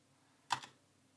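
Typing on a computer keyboard while entering disk commands: one short, soft clatter of one or two quick keystrokes against a quiet background.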